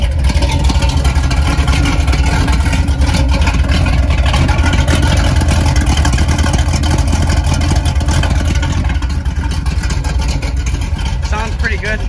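A 1978 square body Stepside truck engine runs steadily up close, a loud, even idle that holds without pause from start to finish.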